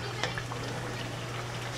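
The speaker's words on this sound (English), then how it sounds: "just going to finish frying up the rest of these potatoes" Soft, steady sizzle of potatoes frying in a pan, with a low continuous hum underneath and faint crackles throughout.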